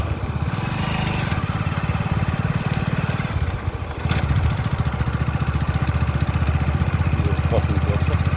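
A motorcycle engine drones continuously while riding over a rough road strewn with stones and debris, loud and close, with a steady throbbing pulse and a brief dip midway.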